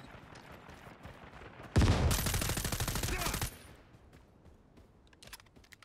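Burst of automatic gunfire in the shooter game Caliber, a loud rapid volley of shots lasting under two seconds, with quieter game sounds and faint ambience before and after.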